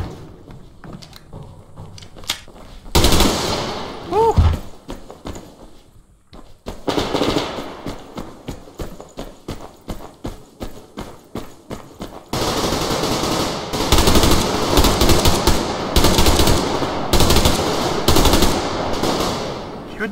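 Submachine gun fire in the video game Survarium, loud repeated bursts of rapid shots with short pauses between, growing into denser sustained automatic fire near the end.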